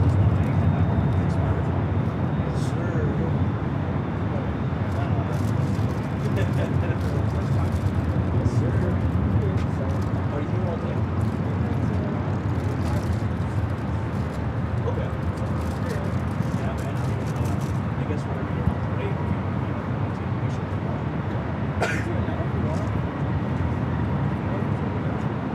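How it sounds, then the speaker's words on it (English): A Philippine Airlines Boeing 777-300ER taking off at Los Angeles airport gives a continuous broad jet roar that holds steady at a distance, with voices talking over it. "Philippine flight 1013 at 777-300ER heading up for a north side at takeoff"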